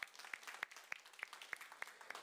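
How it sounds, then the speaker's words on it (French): Faint, evenly spaced claps from an audience at a talk, about three per second in a slow steady rhythm, each a sharp isolated snap over a quiet background. "Ouais, tu peux applaudir."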